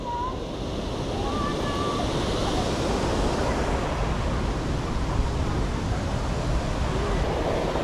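Fruitbat Falls waterfall in Cape York, a broad continuous rushing roar of falling water that stays steady and fairly loud, with some wind buffeting the microphone and a few faint bird calls above it.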